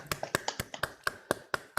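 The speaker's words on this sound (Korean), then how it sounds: "박수 한번 치겠습니다." A few people clap over a Zoom call during a church youth worship gathering, producing sharp, separate claps in a quick irregular rhythm, close and fairly quiet, with nobody talking.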